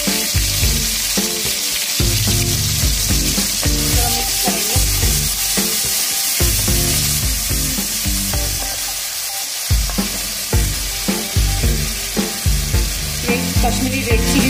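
Ginger and garlic paste fries in hot oil for a restaurant-style chicken changezi, giving a continuous loud sizzle with repeated clatter and scraping as it is stirred.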